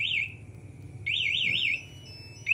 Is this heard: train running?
no